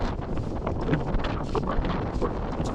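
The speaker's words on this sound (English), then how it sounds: "It is windy as here" Strong wind on the summit of Mount Apo, a volcano in the Philippines, buffeting the microphone before sunrise, a continuous roaring rumble with gusty surges and no speech.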